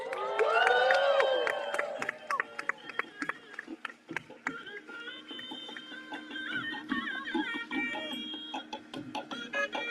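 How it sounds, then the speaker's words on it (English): Wedding guests cheer and clap for the bride's mother and father, a crowd burst that gives way to scattered clapping, chatter and music. "Please give your bride's mother and father a nice big round of applause."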